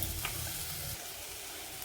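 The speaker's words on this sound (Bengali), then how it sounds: "এবার ওতে দিয়ে দেব কাজু, চালমগজ আর কাসুরি মেথি দিয়ে এগুলো ভালো করে একটু ভাজা ভাজা করে নেব।" Cashews, melon seeds and dried fenugreek leaves frying in a pan for dhaba-style dum aloo, a steady broad sizzle with a low rumble that drops away partway through while the hiss continues.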